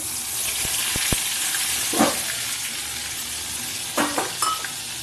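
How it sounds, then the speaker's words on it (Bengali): Onion, garlic and ginger paste fries in hot oil while a spatula stirs it, giving a steady sizzle with scraping and a few metallic clinks at intervals. No one speaks. "এবার পেঁয়াজ রসুন আদা পেস্টটা ভালো করে আমি নাড়তে থাকবো"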